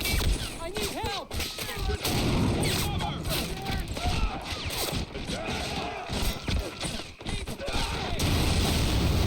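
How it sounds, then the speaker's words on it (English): Battle noise from the toy-soldier war game Army Men World at War, with repeated explosions and gunfire bursts crackling over a dense, continuous din, and a voice speaking briefly amid the blasts. "That was an explosion."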